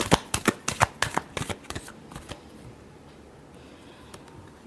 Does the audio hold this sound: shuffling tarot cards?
yes